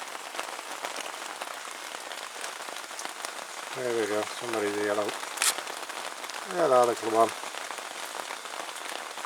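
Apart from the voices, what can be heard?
rain falling on a log pile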